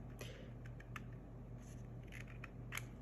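Scissors snip through a paper napkin image for decoupage in a series of faint, irregular crisp cuts over a low steady hum, with no speech.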